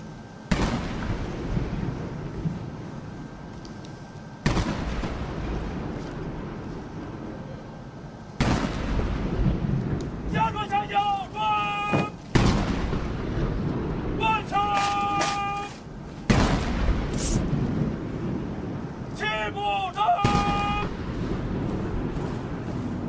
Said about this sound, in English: An 80-gun salute is fired to mark the 80 years since the victory of the War of Resistance.